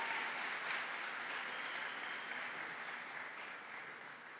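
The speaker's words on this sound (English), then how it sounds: "give them a round of applause" An audience at the Port St. Lucie High School 2019 graduation applauds the senior dancers, a dense, steady wash of clapping from a large crowd that slowly fades over four seconds.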